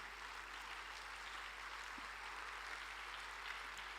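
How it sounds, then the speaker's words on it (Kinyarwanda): Church congregation applause, a dense, even wash of clapping that continues throughout at a low, distant level over a steady hum. "Reka baze hano imbere tubaha amashyi cyane."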